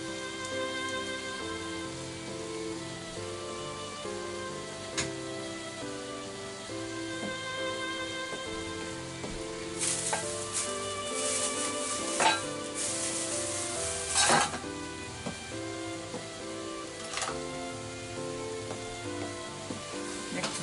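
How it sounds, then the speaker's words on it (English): Cut shirataki noodles made from devil's tongue fry in a pan with a quiet, steady sizzle, broken by occasional sharper crackles and stirring clatters near the middle, with no voices. "Add cut shirataki."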